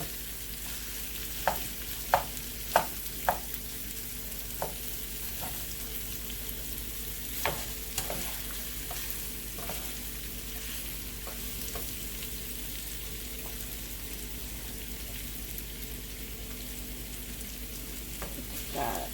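Tofu sizzles steadily in a hot pan with grapeseed oil, with scattered sharp clicks and scrapes as it is stirred, a constant close frying hiss over about nineteen seconds with no voices.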